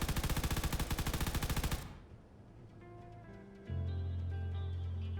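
An automated turret in Space Engineers fires a rapid, loud, evenly spaced burst at a zombie for about two seconds, then cuts off, leaving a machinery hum that swells into a steady drone.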